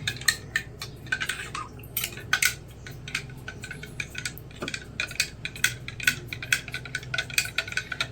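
A spoon clinks against a bowl while a mixture with lemon juice is stirred, giving a quick run of light metallic taps and scrapes close by, with no voices.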